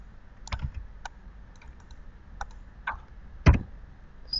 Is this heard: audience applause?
no